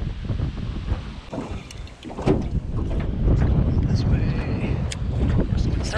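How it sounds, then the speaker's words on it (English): Strong wind buffets a microphone on a fishing boat on open water, a continuous heavy roar with gusts and faint clicks, and a person speaks briefly beneath it. "It's blowing like crazy as soon as I turn."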